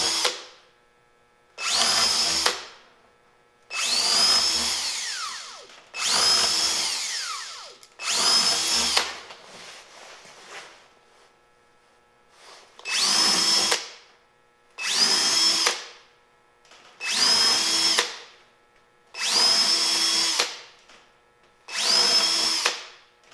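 A power drill bores into a wooden workbench in repeated bursts of a few seconds each, about nine runs separated by short pauses, loud and close with no talking.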